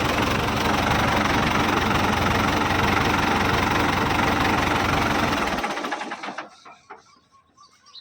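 A Ford T3 farm tractor's diesel engine runs steady and loud with a knocking idle for about five and a half seconds, then is shut off and winds down into near silence.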